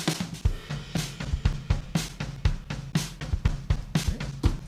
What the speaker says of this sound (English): if you're looking for a song intro and you want a lot of toms